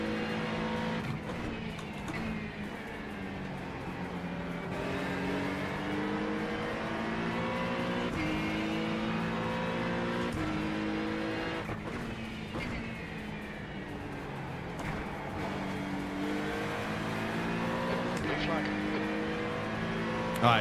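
GT3 race car engines in the iRacing sim at Watkins Glen roar steadily at high revs, with gear shifts and pitch swings repeating through the lap, loud and continuous throughout.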